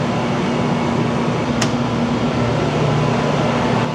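A refrigerant recovery machine runs steadily during a compressor replacement, giving a constant mechanical hum with a faint tonal whine and one brief sharp tick partway through.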